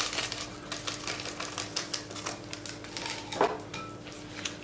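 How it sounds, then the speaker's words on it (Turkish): Sugar, an egg, baking powder and vanilla being mixed in a bowl, giving a steady run of quick clinking, tapping strokes at close range with no talk. "Öncelikle bu malzemeleri karıştırayım."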